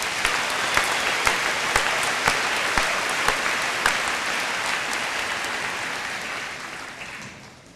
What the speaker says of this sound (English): Would you join me in a round of applause for all of those people?